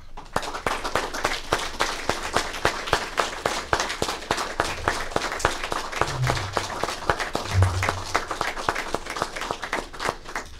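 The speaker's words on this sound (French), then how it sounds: "on peut applaudir Carmel de tout notre cœur" Sustained applause fills a funeral ceremony honoring an 87-year-old woman, dense steady clapping from a gathered crowd throughout, with a few low bumps and shuffles underneath.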